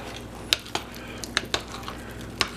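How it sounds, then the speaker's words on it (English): Spoon working through fruit cobbler batter in a bowl, giving a few sharp clinks against the side between soft scraping and squishing, in a quiet kitchen. "I'm just going to put in that amount and then stir this all up."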